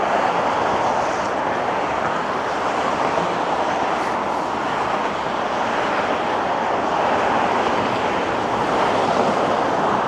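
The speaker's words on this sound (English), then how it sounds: "Cars certainly do make a lot of noise." Steady, broadband roar of traffic on the Don Valley Parkway in Toronto on a snowy winter day, a continuous wash of passing cars heard from a distance with no voices.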